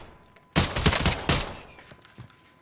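In Call of Duty Warzone, a burst of automatic gunfire rattles off loud and close, a rapid volley of shots in quick succession followed by a few scattered trailing shots as it fades.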